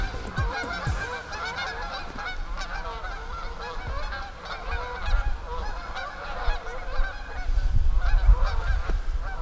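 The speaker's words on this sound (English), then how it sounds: "The geese are flying." A noisy flock of geese honks overhead in flight, overlapping calls continuing steadily and swelling louder toward the end, with no talking.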